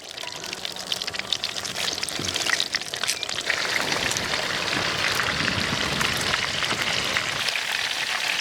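Banana bonda deep-frying in hot oil in a village outdoor kitchen: a steady, close hiss of bubbling fat that grows denser and louder partway through, then holds as an even, rain-like sizzle.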